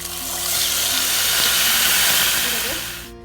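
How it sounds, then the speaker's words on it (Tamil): Ground tomato hits hot oil with popped mustard seeds for a tomato pickle, giving a loud, steady frying sizzle and hiss that swells and holds for a few seconds before cutting off. "கடுகு பொடிஞ்சதும் நம்ம அரைச்சி வச்சிருக்கிற தக்காளி அதில் சேர்த்துடலாம்"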